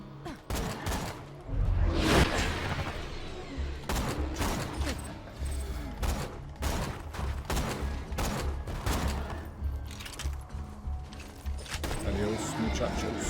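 Scoped gun firing in a video game: a string of sharp, loud gunshots, some spaced apart and some in quick bursts, mixed with other game noises while a person talks.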